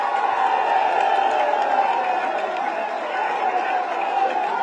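Steady, dense applause and cheering from a press conference audience welcome Akhilesh Yadav in Lucknow, loud and sustained throughout with a crowd murmur underneath.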